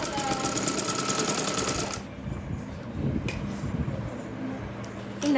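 A sewing machine stitches a blouse, a fast, even run of close mechanical stitching clatter for about two seconds, then stops and leaves only low background sounds with faint handling noises.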